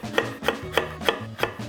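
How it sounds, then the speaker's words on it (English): A knife slices a Korean chili pepper into thin pieces on a cutting board, six quick, evenly spaced chops close by in a steady rhythm, with no talk. "I'm just gonna cut the tip off and cut 6 thin slices."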